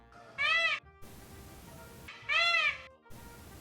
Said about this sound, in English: I compared this sound with the sound of a peacock.